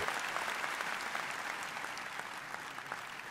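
A crowd applauds at a youth dream-drawing event, steady dense clapping from many hands heard at a moderate distance throughout, slowly fading a little toward the end.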